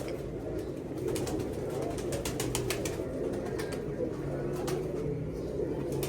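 Soft, repeated cooing of pigeons close by, steady and low, with faint rustling and a murmur of background noise.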